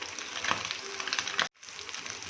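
Pabda fish coated in salt and turmeric fry in oil with a close, steady sizzle and crackle that cuts out for a moment, then resumes.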